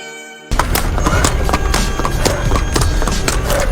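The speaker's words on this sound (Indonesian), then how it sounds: "Hingga langkah kaki pun menjadi suara sepatu kuda" Running footsteps beat rapidly like horse hooves, with dense clattering strikes over a busy, loud background that kicks in suddenly and continues steadily.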